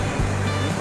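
Floodwater of the fast-flowing Kumatiya river, part of the Jiadhal river in Dhemaji, rushing high under a threatened bridge. It comes as a brief, loud, steady roar of churning water, close by, with no voices.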